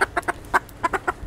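Backyard chickens cluck close by outside their coop, a quick series of short, bright clucks in an uneven rhythm with no talking.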